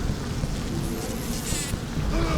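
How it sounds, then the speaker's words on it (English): A swarm of bees in the video game BioShock makes a steady, dense buzzing drone that fills the whole stretch, with a brief brighter rise near the middle and no speech over it. "I forgot this game has bees in it."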